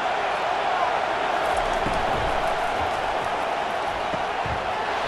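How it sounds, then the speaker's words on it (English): College Football 25 home crowd at the SEC Championship game, Georgia versus Texas, roaring on a third and long; a dense, steady wall of crowd noise holds throughout, with faint thumps underneath. "this home crowd is going berserk for this 3rd and long"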